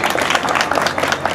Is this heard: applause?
yes